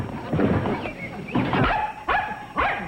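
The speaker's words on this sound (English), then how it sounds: "It's a brave dog." A dog barks several times in a scene from the sitcom Petticoat Junction, sharp close yaps and whimpery barks spaced irregularly with brief pauses between.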